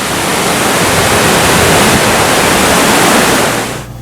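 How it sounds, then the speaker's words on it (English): A loud, steady, full rush of water comes from a stream fed by a waterfall in Yosemite National Park, close by and unbroken, then drops away at the very end. "this is the stream created by the waterfall"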